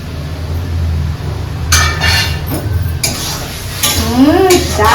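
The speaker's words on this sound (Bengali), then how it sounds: "এটাকে খালি মশলাটাকে একটু ভালো করে কষতে হবে যতক্ষণ না পর্যন্ত তেল ছাড়ছে" Ground chili, turmeric, salt and garam masala stir-fried in oil in a pan, with a low steady sizzle, intermittent scraping and clinks of a spatula against metal, and a voice speaking briefly near the end.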